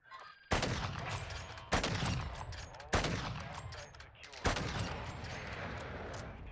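Video-game gunfire in a multiplayer shooter, with four sharp loud bursts over a dense, continuous roar of battle noise and faint voices.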